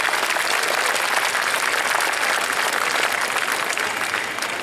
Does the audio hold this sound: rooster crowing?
no